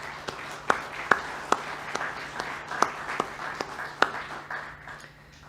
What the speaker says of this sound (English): let's join in giving them a round of applause as well